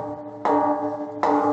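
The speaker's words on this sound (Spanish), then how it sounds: "para que escuchen en directo el sonido de la famosa campana Bamba" The Wamba bell of Oviedo Cathedral, cast in 1219, strikes twice, each stroke a bright clang over a sustained, humming resonance that lingers between hits.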